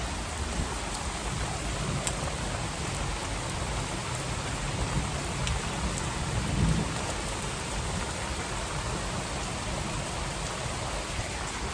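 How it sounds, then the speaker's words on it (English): Steady Oklahoma rain hisses throughout, with a faint low rumble of thunder swelling briefly near the middle. "Or if you can hear the thunder."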